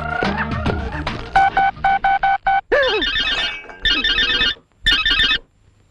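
A telephone rings in a repeated electronic melody of short beeping bursts with gaps between them, loud and close, mixed with other busy tones and noises.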